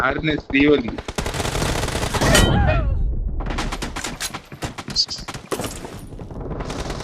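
Gunfire in a team shooting video game, rapid bursts of automatic fire loud and close, broken by short pauses, with voices briefly heard among the shots.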